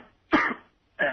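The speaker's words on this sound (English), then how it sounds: "he's faking the cough and everything" A man fakes a cough, two short harsh forced coughs with a pause between, close and loud with no talk.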